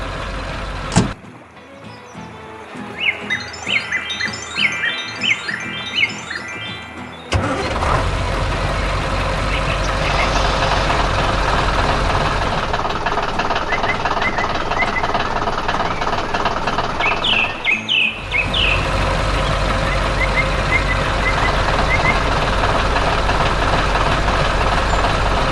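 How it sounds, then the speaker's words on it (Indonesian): Animated tractor working hard in a green garden, a loud continuous engine rumble and drone that dominates, preceded by quieter cartoon sounds with a few high beeping tones. "dengan traktor yang sedang bekerja keras di kebun yang hijau"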